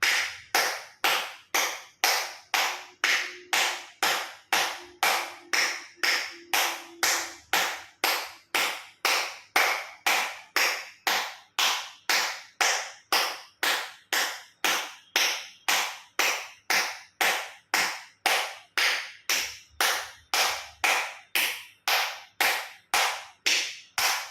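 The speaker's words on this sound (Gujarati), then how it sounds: "એક્યુપ્રેશર તાળી બધી હાથેળી અને આંગળીઓ બધું ટચ થાય એ રીતે 50 વખત તાળી પાડીશું" Steady run of about fifty firm palm-to-palm acupressure claps, palms and fingers fully meeting, in an even brisk rhythm, loud and close with no talk over them.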